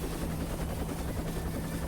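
Helicopter in the video game Tokyo Necro: a constant, loud rotor drone with a steady low hum and rhythmic chopping that fills the whole clip.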